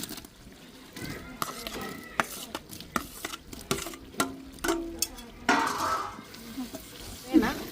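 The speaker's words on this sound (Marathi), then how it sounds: "हे बेसन पीठ आता छान लालसर होईपर्यंत आपल्याला भाजून घ्यायचं" Gram flour (besan) is roasted in a pan, with intermittent scraping stirs and soft sizzling, partly under a speaking voice.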